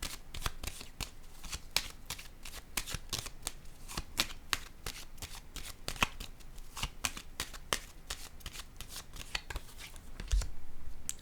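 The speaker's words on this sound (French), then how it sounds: "Je vais déposer une carte sur les amoureux à l'envers." Tarot cards being handled, shuffled and laid down, a quick series of crisp snapping and flicking card sounds heard close and quiet, no talking.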